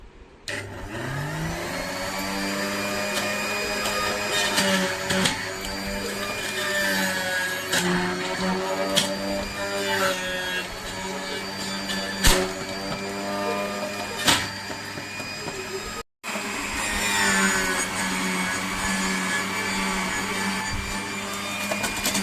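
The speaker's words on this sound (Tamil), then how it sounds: "இப்போ நம்ம கேரட் இதை போட்டு அரைக்க போகிறோம்" An electric juicer grinds carrots for ABC juice, its motor whining in a loud, continuous drone whose pitch wavers as the pieces are fed through, running for about twenty seconds with one brief cut near the end.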